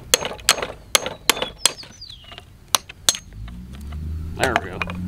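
A hammer strikes new metal in a series of sharp, ringing blows, first rapid and then spaced out, near and loud, followed by a lower rumble and a voice.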